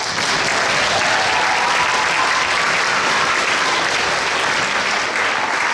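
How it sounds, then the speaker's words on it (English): A school concert audience at a middle school grand finale gives a full, steady round of applause, thick and continuous throughout without any talk. "So let's give them a round of applause."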